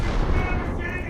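Big guns fire aboard a pocket battleship in a naval battle video game, giving a deep, booming rumble that fades into a tonal ring. A voice is faintly present underneath.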